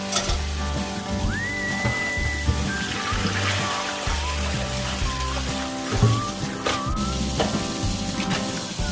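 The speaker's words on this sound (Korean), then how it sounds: "찬물에 재빠르게 씻어냅니다." Blanched napa cabbage is rinsed quickly in cold water, with continuous splashing, trickling and stirring sounds close by, steady with occasional soft clunks and no voices.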